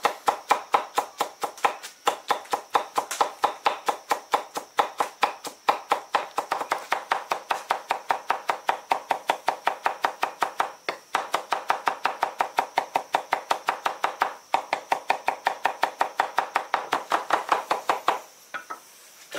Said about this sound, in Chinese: 把那个蒜剁细一点